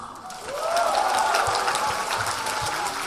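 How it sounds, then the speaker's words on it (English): Audience at an education forum claps steadily for a few seconds, a dense even patter of hands at moderate volume with no voices over it. "Where is your applause?"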